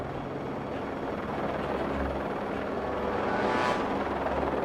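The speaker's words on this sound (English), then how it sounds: "Not to mention the helicopter." Helicopter flying over mountain terrain, a steady rotor thrum and turbine whine that swells slightly louder toward the end, heard alone without any talk.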